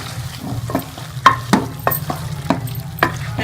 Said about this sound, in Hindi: अब इसके अंदर हम ये सारी सब्जियां ऐड कर देंगे और इसको मिक्स कर लेंगे इस तरह से